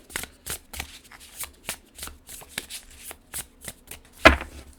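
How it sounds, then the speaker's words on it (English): Oracle cards shuffled by hand during a reading, a steady series of soft riffling bursts roughly every half second, close and quiet, ending in one louder slap of the deck. "let me just shuffle the cards again just to make sure"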